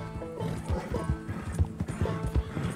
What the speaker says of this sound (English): Okay, I can't seem to slow my horse down. He's just going like a crazy man.